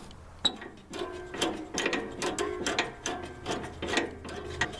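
Depth control on a Craftsman II lawn mower deck being cranked counterclockwise, a series of repeated ratcheting clicks and mechanical clunks in a steady rhythm, close and moderately loud.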